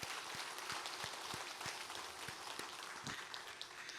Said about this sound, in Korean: 이들을 위해서 감사와 격려의 박수